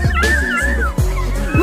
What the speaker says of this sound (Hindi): चूहा कुत्ते के मुंह में चिपक कर उल्टे कुत्ते को ही काटना शुरू कर देता है